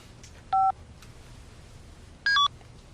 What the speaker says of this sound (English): That's okay, I've got a cell phone.